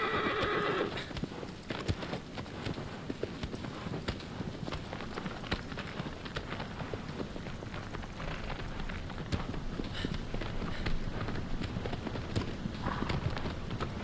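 A horse whinnies at the start in Shadow of the Colossus, followed by steady hoofbeats clip-clopping along over a soft, continuous background patter.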